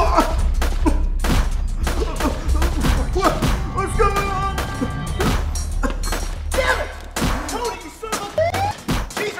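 Loud, chaotic comedy-sketch gunfire with sharp repeated bangs and crashes spread across the scene, a burst of shots mixed with impacts and thuds, under shouting voices.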